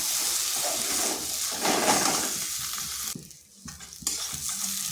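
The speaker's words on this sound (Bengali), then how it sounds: "এরপর ভালোভাবে এগুলো মিশিয়ে নিচ্ছি" Soaked chira and potato are tossed and mixed in a pan with Maggi masala and chaat masala, giving a continuous crackling fry with brisk scraping stirs that briefly fade before resuming.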